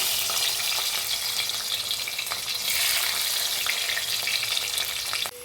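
Garlic sizzles in hot oil, with mustard seeds already in the pan. The frying is loud and steady, a bright crackling hiss, and a few soft stirring clinks sit under it.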